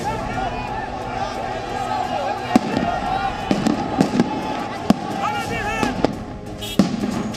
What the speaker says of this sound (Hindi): देखते ही देखते गोलियां चलने लगी।